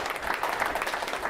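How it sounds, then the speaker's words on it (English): A roomful of veterans at an evening gathering applauds: dense, continuous clapping from many hands, fairly close and even in loudness, with no talk over it. "give yourself a round of applause"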